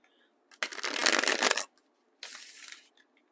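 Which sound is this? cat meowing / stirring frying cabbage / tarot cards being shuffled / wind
tarot cards being shuffled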